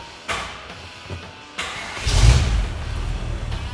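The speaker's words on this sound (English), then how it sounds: "Why don't we go ahead and start it up and hear how it sounds." A 1928 Ford Hi Boy street rod cranks and fires up, a few soft starter turns followed by the engine catching with a loud surge and settling into a steady, rumbling idle nearby.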